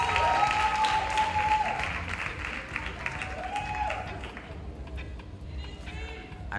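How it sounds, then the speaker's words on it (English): An audience at a performing arts awards ceremony breaks into steady applause, a dense wash of clapping that stays loud throughout, with a voice and faint tonal sounds over it early on. "Give her a big round of applause."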